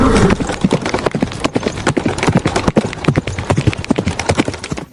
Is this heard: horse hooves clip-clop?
yes